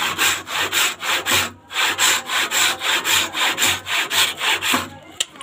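A saw cuts through wood for a window door in steady back-and-forth strokes, about a dozen rhythmic rasps close by, with one brief pause midway and no talking.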